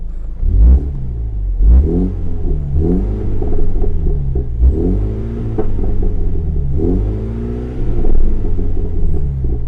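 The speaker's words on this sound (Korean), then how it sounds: "스포츠 모드를 넣게 되면 계기판이 빨간색으로 변하게 되고 아까 보여드렸던 가면 배기 플랩도 오픈이 됩니다" A MINI Clubman JCW's exhaust roars in sport mode with the exhaust flaps open as the engine is revved repeatedly, several rising and falling rumbling bursts in close succession, loud and near.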